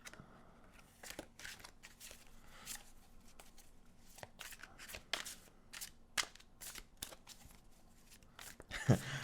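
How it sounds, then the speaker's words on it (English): A tarot deck being shuffled by hand, giving repeated short papery riffles and card slaps in uneven bursts, close and fairly quiet, with a sharper clatter near the end. "I already shuffled this deck a good chunk of times, but just do it a little bit more."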